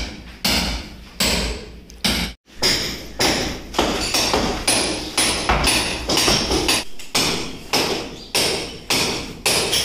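Heavy hammer blows strike a house wall being demolished after its window glass was removed, a steady rhythm of loud, close thuds roughly every half second with one brief pause and no talking.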